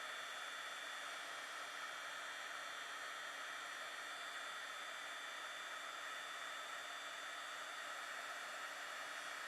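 A handheld heat embossing tool blows a steady, even whoosh of hot air over embossing powder during card crafting. The whir stays close and unbroken throughout, with no talking.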